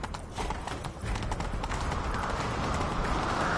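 Horse hooves pound in a rapid, continuous gallop in a video game, close and steady, over a dense rushing background.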